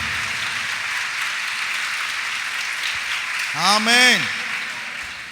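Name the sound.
congregation clapping loudly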